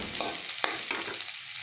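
Ground chicken sizzles softly in a pan for ginisang ampalaya, with a couple of sharp stirring scrapes over a faint steady fry.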